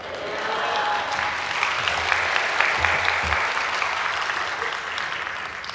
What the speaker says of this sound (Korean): 박수 치라고 안 했는데 박수 치니까 마음에 드네요